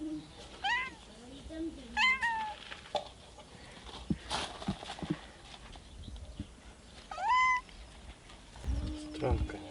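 A domestic cat meows several times near a brick fire pit being built outdoors, short rising calls spaced apart, with quiet talk, thumps and handling noises between them.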